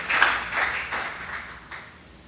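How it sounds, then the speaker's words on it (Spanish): A church congregation claps for the Lord in a diffuse, roomy patter that starts fairly strong and gradually fades within a couple of seconds. "Dele ese aplauso"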